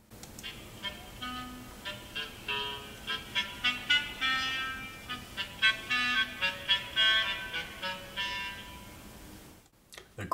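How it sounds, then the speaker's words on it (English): A clarinet plays the cat theme from Peter and the Wolf, with light, detached notes in short staccato groups and a few longer tones. The melody sounds alone and is cut off sharply at the end. "The character of the cat is played by the clarinet."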